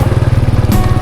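A motorbike engine buzzes loud and close with a rough, pulsing throb as it rides on a forest road through the jungle near Mahaxay in Khammouane, Laos.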